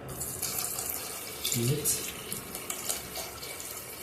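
Water being added to a cooking pot while making Ghanaian omotuo, a steady hissing pour heard close, with brief speech over it.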